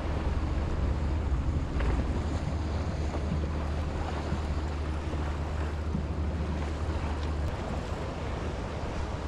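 Strong wind buffeting the microphone aboard a sailboat at a sailing regatta start, a constant loud roar with water and waves beneath, no talking.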